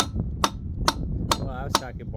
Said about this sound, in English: Now, I don't like hitting it with a hammer either.